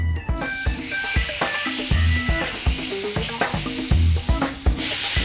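Sliced steak for a Philly cheesesteak sizzling loudly on a griddle, with a hot continuous hiss broken by repeated metal spatula scrapes and taps in a busy rhythm.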